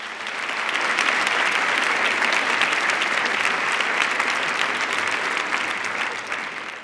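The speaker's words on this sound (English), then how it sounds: "Can we now give Susan a fantastic round of applause?" Sustained crowd applause for Susan Cain after a live talk on presence, many hands clapping in a dense, uniform roar that swells in and stays strong throughout.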